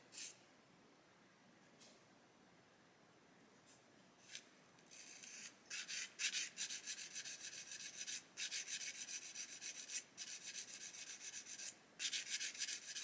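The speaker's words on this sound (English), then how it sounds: "if I grab my little sanding stick" Repeated scratchy rubbing of a small sanding stick along the edge of a wooden piece, starting faint and sparse then turning into steady, close, brisk strokes with short pauses, no talking.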